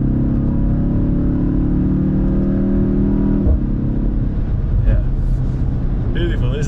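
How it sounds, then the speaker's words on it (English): A BMW X1 M35's turbocharged four-cylinder engine pulls hard under acceleration, its steady rising drone heard from inside the cabin, ending with a shift and a brief change in tone. "you definitely can hear that it's the M version of the car. It's a 4-cylinder engine,"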